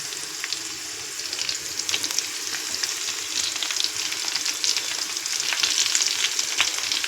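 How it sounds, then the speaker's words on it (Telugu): Onions frying in hot oil for a brinjal fry, a steady close sizzle with crackling bursts that holds throughout and grows slightly louder toward the end. "ఆయిల్ నూనె బాగా వేగినాయి ఎర్రగడ్డలు కూడా"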